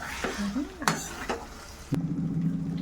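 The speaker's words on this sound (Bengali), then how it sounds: "এরপর এটাকে একটু ভালো করে নাড়িয়ে নেবো আবার।" Egg do-pyaza with kasuri methi being stirred in a pan, with a few scraping clinks of a spoon followed by a steady soft sizzle of frying.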